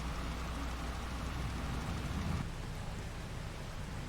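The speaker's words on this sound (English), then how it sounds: "it's still raining" Steady rain falls in the Farming Simulator 22 world, a constant soft hiss of drops with a low rumbling undertone, even and unbroken throughout.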